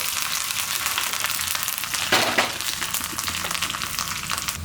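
Vadagam with curry leaves and coriander leaves sizzles steadily in hot oil for a tempering, a loud, close frying hiss throughout with a brief surge partway through as the pan is stirred, and no talking.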